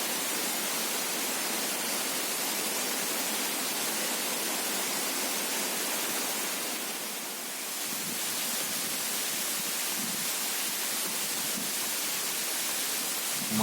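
Grobogan Sewu waterfall pours in a constant, broadband rushing roar, loud and unbroken throughout with only a slight dip midway and no voices.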